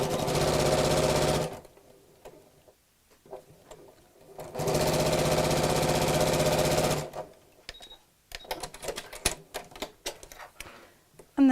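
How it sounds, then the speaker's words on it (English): Sewing machine stitching a fat-quarter tote bag, two close, loud runs of rapid steady whirring, the second longer, followed by quieter clicks and handling sounds. "So again, sew backwards and then forwards a couple of times, and then carry on."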